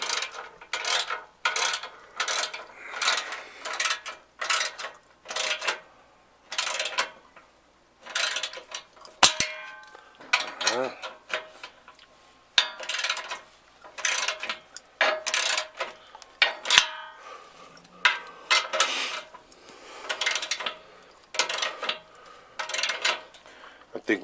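A ratcheting torque wrench clicks in repeated close, loud bursts of rapid ratchet ticks with short pauses while tightening an exhaust clamp on a 1993 Fox body Mustang with a Coyote engine swap.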